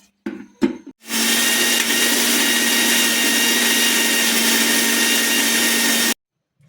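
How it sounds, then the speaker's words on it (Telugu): A mixer grinder finely grinds roasted sesame seeds for cucumber chutney, running as a loud, steady, high-pitched whir for about five seconds after a few brief clatters, then stopping abruptly. "ఇప్పుడు వేయించిన నువ్వుపప్పు ఇందులో వేసుకొని మళ్ళీ గ్రైండ్ చేసుకోవాలి మొత్తగా"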